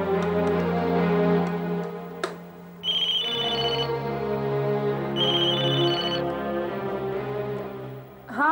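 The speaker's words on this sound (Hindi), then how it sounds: "मैं कशिश को फोन लगाती हूँ।" A telephone rings in two repeated electronic bursts over a soft background music bed while a call is placed during a TV drama scene, moderately loud and close, with no talk.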